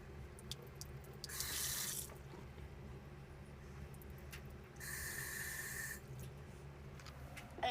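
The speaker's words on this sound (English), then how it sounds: "the sink faucet" A sink faucet runs in two short bursts of rushing water, each lasting under a second, separated by quieter room tone in a house kitchen or bathroom.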